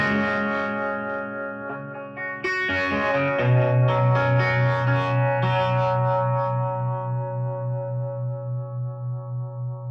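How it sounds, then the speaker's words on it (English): Electric guitar through a PAF humbucker in the bridge position into a 1961 Fender Showman amp, with a strum-like attack followed by a sustained, slightly driven chord that rings out and slowly fades with a wavering pulse, alone and loud. "I'm just gonna switch to a PAF humbucker in the bridge."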